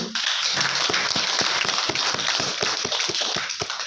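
A seminar audience at an embassy hotel claps together at a moderate level. The individual hand strikes come through distinctly in a brisk, steady patter that lasts a few seconds.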